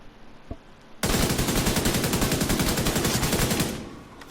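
Assault rifle firing in The Division 2 during a Providence Defense mission, a single shot followed by a sustained rapid automatic burst of loud rattling shots for about two and a half seconds that then tapers off.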